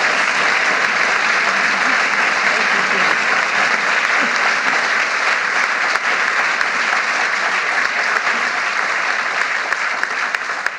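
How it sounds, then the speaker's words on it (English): A large audience gives a sustained round of applause in a historic hall at a celebration with Michelle Obama, dense steady clapping filling the whole stretch without letting up. "Let's give them both a round of applause."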